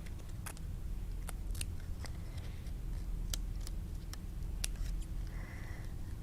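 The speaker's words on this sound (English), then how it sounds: "I just did a little bit of cutting there to cut out the lace" Scissors snip through stenciled linen paper to cut out a lace pattern, giving sparse, crisp clicks spaced irregularly over a quiet background hum, with no talking.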